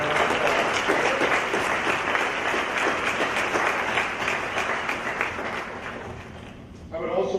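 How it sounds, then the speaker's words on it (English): Sustained audience applause fills a hall of fame ceremony, steady and dense for about six seconds before tapering slightly, then picking up again at the end. "Let's give these people a round of applause"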